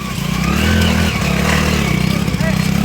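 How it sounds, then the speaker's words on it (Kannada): Motorcycles ridden by drunk bikers on a rain-soaked, muddy road in the Chikkamagaluru hills, their engines droning loudly and steadily throughout with rough mid-range revving. "ಕಾಫಿನಾಡಿನಲ್ಲಿ ಕುಡಿದು ಬೈಕ್ ಸವಾರರ ಹುಚ್ಚಾಟ"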